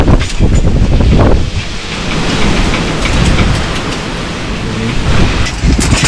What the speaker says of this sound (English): it's really windy out here tonight, so you're going to be hearing some breezes